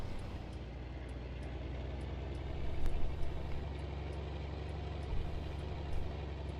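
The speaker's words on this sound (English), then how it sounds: "The 4240 could use a little more horsepower pulling these wagons." Steady low drone of a John Deere 4240 tractor engine pulling wagons across a field, continuous and moderately loud, with slight swells in load.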